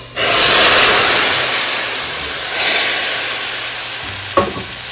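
Hot baghaar tempering with Kashmiri chillies poured into kadhi bursts into a loud, dense sizzle that slowly fades, briefly swelling again, before a sharp clink of a lid or utensil near the end.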